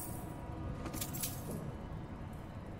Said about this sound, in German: Okay, jede Münze einzeln nehmen.